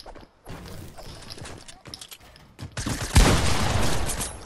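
Video game gunfire while shooting at an enemy, a string of sharp shots of varying loudness that swell into a heavier burst near the end.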